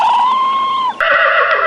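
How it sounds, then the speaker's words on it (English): A horse neighs loudly and close by, one shrill whinny that wavers and then breaks into a higher, rougher burst near the end. "Horses use whinnies and neighs to communicate with the herd."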